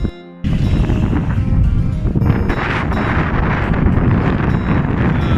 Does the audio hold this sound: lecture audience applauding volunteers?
no